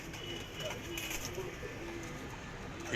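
Pigeons coo softly and faintly in a few short, low calls against a quiet, hissy background.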